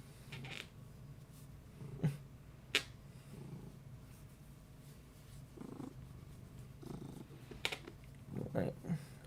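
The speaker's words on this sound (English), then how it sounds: "he is purring like no one else" A cat purring close to the microphone, a soft continuous low rumble with a few sharp clicks and rustles, a person talking quietly over it at times.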